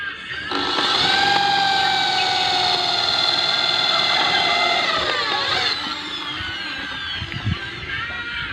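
A Yamaha MZ 200 engine fitted to a homemade fishing boat runs steadily with a high, whining mechanical drone, then the pitch drops as it eases off, leaving a rougher low rumble.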